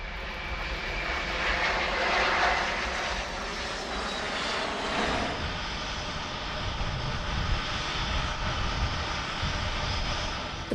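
A loud, continuous roar of cargo plane jet engines, such as a C-17 Globemaster, fills the scene, a steady droning whine with a rising high tone midway, heard up close with no talking.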